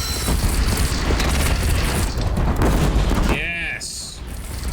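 A platform blows up in the game Horizon Zero Dawn, a loud sustained roaring blast with crackling debris, fading into shorter pops and electronic tones, with a voice talking alongside.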